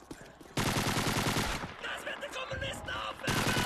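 Rapid automatic gunfire from a weapon in Call of Duty 2, two loud sustained bursts separated by a short gap, close and dominant over faint battle noise.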